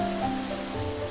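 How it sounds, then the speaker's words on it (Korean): Jikso waterfall at Byeonsan pours without pause down a massive sheer rock wall, a steady broadband rushing wash that holds even throughout, with faint tonal lines riding over it. "예리한 칼날로 잘라낸 듯 육중한 암벽에서 쉴 새 없이 쏟아지는 물줄기"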